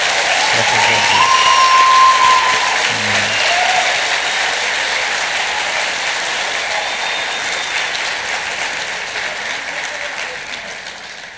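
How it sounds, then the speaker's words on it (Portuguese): Loud, sustained applause fills the room from a sizable audience at an evening church youth camp service, with a few brief cheers and whistles mixed in, gradually tapering off toward the end. "Aplauda o Senhor por causa disso"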